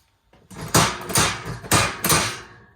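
Four sharp metallic taps, evenly spaced and close, as a pin is driven into the coin mechanism ratchet assembly of a 1951 Vendo 39 Coke machine.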